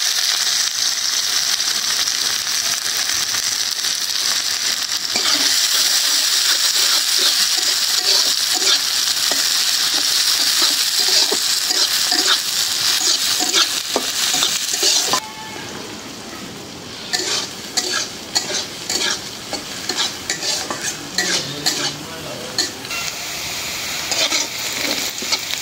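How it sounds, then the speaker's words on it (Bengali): Onions fry loudly in hot oil with bay leaves, dried chillies, cardamom, cinnamon and cumin, a dense continuous sizzle broken by the clatter and scrape of stirring, easing to a lighter, crackling sizzle partway through. "পেঁয়াজ ভাজা হয়ে গেল"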